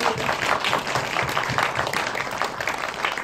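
Audience at a film screening guest talk clapping together, dense steady applause that fills the room, close and loud throughout.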